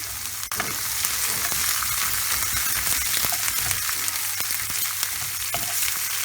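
Chopped onions frying in a pan for a mushroom and capsicum curry, with a dense continuous sizzle and occasional clicks from stirring, close and fairly loud.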